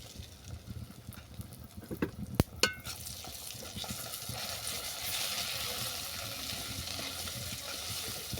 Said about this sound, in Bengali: এটাকে হালকা করে কষিয়ে নেবো